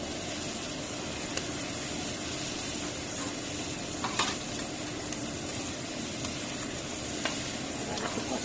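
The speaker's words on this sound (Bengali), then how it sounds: "এখন চিংড়ি মাছটা দিয়ে দিব দিয়ে কষাই নিব" Prawns stirred and fried in a pan, a continuous close sizzle with occasional faint clicks of a spatula, steady throughout and without voices.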